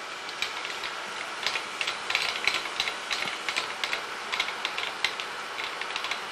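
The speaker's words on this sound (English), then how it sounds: "At this point, I'm going to go ahead and turn the coolant on." Surface grinder with coolant flowing, rough grinding a bowed sine plate held lightly on the magnet: a steady bright hiss of wheel and coolant, broken by rapid irregular ticking and clicking throughout, close and fairly loud.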